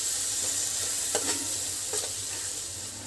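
Leftover chapati chaat masala cooking in a pan, giving a steady soft sizzle with a few scraping stirs, alone and gradually easing toward the end.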